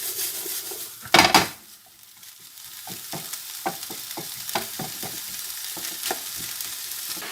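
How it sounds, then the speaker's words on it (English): Savoury mince stirred together with pre-boiled vegetables in a pan: a loud clatter as the vegetables go in, then a low sizzle under repeated spoon scrapes and taps against the metal. "Then I'm going to add in them pre-boiled vegetables, and we'll give that a good mix."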